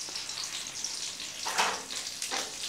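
Cumin seeds and two bay leaves sizzle in hot ghee, a steady crackling hiss with a few louder spattering bursts near the middle and end, heard alone with no talking.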